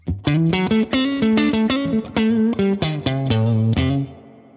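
A clean electric guitar plays a run of punchy picked chords through a Fender Tonemaster Twin Reverb amp, loud and close, each strum ringing out with reverb tails before fading at the end.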